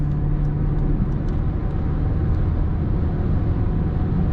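A 2012 Fiat Albea Sole Dynamic Plus with a 1.4 engine cruises in fifth gear at 80 km/h, around 2000 rpm. Its steady, loud engine drone and road rumble fill the cabin without a break, and no one speaks.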